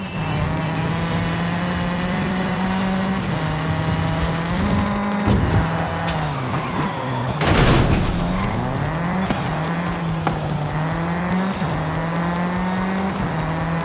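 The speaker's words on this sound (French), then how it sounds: "Plein gaz, à fond dans la ligne droite." A race car in Forza Horizon 5 held at full throttle down a straight, a loud continuous engine drone with small pitch wobbles and a sharp burst of noise midway, with speech at moments.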